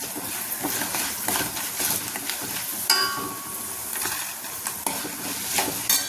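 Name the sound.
ingredients frying in a pan for lemon rice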